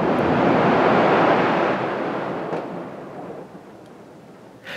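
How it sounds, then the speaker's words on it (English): Snow slides off a garden workshop shed roof in a long, loud, broad rushing whoosh that fades gradually over several seconds, with a small thump near the end and no voices. "that's the sound of the snow on the roof falling down"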